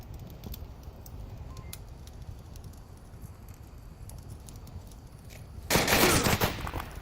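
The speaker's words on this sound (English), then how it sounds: "There are shots coming out and they do trade" Faint distant gunshots crackle over low ambient noise in a competitive VR match of Onward, then a sudden loud burst of close rapid fire erupts near the end.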